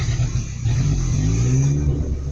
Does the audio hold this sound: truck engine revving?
yes